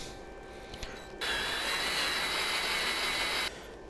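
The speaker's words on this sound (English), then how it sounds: "Okay, hole is drilled." A power drill bores a hole through metal for a radiator bracket, a steady loud whining grind that starts abruptly, holds for a couple of seconds, then cuts off, with quieter workshop noise before and after.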